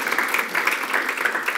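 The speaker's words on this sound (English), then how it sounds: "a round of applause" Brief, steady applause from a conference audience at a health keynote, honouring someone's long contribution to primary care. The clapping is a continuous, moderately loud wash with no speech on top.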